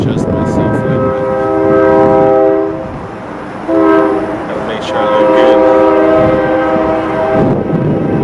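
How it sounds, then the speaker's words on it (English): A train runs through a train yard below, its loud sustained horn blaring in several long blasts over a steady rumble of rolling cars. "So here comes the train. It's running through."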